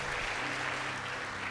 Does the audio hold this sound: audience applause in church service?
yes